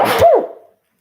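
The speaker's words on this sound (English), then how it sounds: "I gotta sneeze" A single short, sharp sneeze, close and loud, bursting out and then fading quickly into silence.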